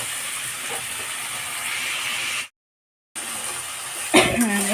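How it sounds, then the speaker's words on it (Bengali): Chopped onion, tomato and green chili sizzle in hot oil in a home kitchen, giving a steady hissing fry that runs throughout, with a brief gap and a short burst of voice near the end. "এটা আমার ভাজা ভাজা হয়ে এসছে।"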